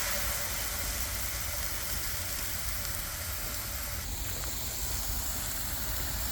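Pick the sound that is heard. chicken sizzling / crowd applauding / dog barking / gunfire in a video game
chicken sizzling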